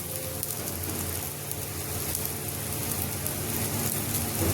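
Soybean chunks frying in oil in a pan for a Navratri vegetable dish, giving a steady, close, continuous sizzle like heavy rain, with no talk.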